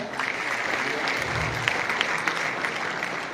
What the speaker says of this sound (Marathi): आपण लाभार्थी आहेत त्यामुळे थोड्या टाळ्या वाजवाव्यात असं मला वाटतं